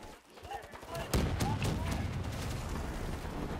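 Rapid automatic shotgun blasts from spinning barrels in Black Ops 3's Dead Ops Arcade mode, a dense, loud burst of gunfire beginning about a second in and continuing steadily to the end.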